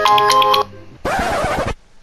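A telephone rings with a bright electronic trilling burst that stops, and after a short pause a second louder, buzzier ring follows, heard close and clear with no talking.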